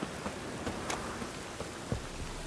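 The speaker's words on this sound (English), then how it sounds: "Rain again." Rain in the video game The Witcher 3, a steady hiss of rainfall with scattered drops and small ticks, continuous and even throughout.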